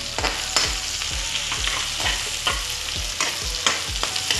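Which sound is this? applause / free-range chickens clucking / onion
onion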